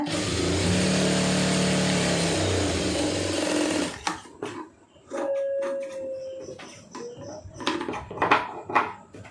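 A tailoring sewing machine stitches a curved fabric strip, a fast, steady mechanical whir for about four seconds that cuts off, followed by scattered clicks and fabric handling.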